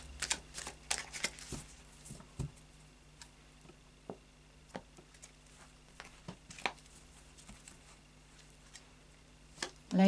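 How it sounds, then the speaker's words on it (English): Lightseer's Tarot cards being shuffled by hand, giving soft irregular ticks and riffling taps spread through the passage, faint and close with no talking over it. "Final shuffle with the Lightseer's Tarot for you."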